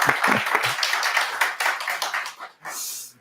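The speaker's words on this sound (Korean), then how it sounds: "이럴 때는 환영의 박수도 한번 치고 그러는 거예요." A church congregation at Sunday service claps in welcome for a returning deacon, a burst of hand claps that thins to scattered final claps, with faint voices underneath.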